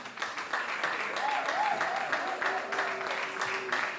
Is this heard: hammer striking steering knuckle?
no